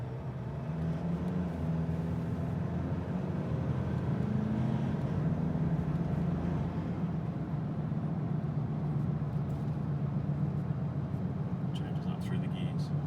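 A Mitsubishi Triton (Challenger) with an automatic gearbox accelerating away, a steady low engine drone heard from inside the cab, with a voice talking over it throughout.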